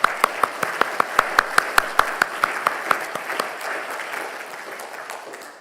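A church congregation applauding at a Sunday service, beginning with sharp, rhythmic unison claps that loosen into a softer, scattered wash of clapping before fading.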